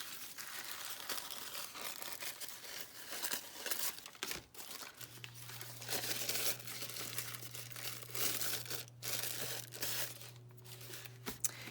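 Paper cut to size for a craft page, a continuous close crinkling and rustling with scissor-like crunches and a faint steady hum underneath, no speech.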